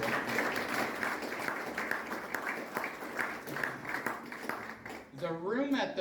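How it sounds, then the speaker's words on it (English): Sustained audience applause fills the room at a library services event for several seconds, then fades as a voice begins speaking. "So a big round of applause for everyone."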